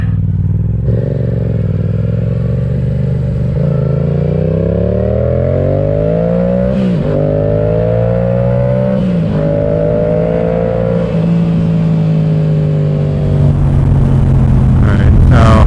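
A 2022 Yamaha R7 motorcycle fitted with a Yoshimura R-77 full exhaust accelerates hard, its engine note climbing in repeated rising sweeps through the gears, loud and close throughout.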